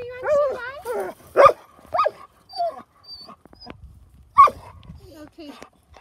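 Several dogs bark and yip outside in short sharp bursts, loud and close, mixed with whimpers while people talk nearby.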